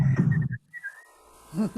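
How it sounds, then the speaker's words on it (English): A person whistles a short tune, God Save the Queen, a few clear notes with a brief pause, bracketed by bits of speech. "Can you whistle God Save the Queen?"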